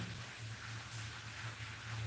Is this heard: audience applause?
no